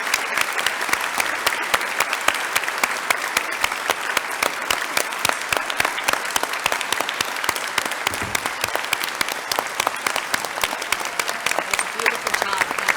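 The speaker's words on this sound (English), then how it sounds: "a big round of applause" An audience at a chamber of commerce valor awards ceremony applauds the award recipients, a sustained, lively wash of many hands clapping, with voices talking faintly underneath.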